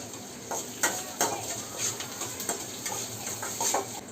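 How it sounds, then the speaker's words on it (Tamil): Onions sauté in oil until golden while a spatula taps and scrapes the pan in an irregular rhythm of sharp clicks over a light, continuous sizzle. "ஆனியன் போட்டுட்டு நல்லா பொன்னிறமாக வதங்கட்டும்."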